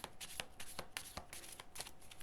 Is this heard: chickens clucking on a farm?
no